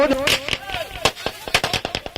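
Firecrackers burst in a rapid, uneven string of loud sharp cracks at a sports final, close and dominant, while an announcer's voice carries faintly underneath.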